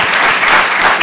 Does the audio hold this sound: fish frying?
no